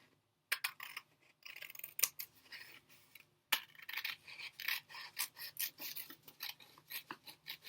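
Scissors snip through folded paper to cut out a fish shape, making a quick series of close, crisp cuts with short pauses between bursts.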